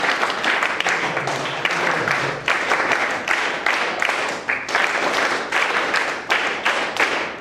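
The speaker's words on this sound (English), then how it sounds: "A big round of applause." Sustained audience applause fills a school science programme hall, a dense steady patter of many hands clapping at close range, carrying on without a break.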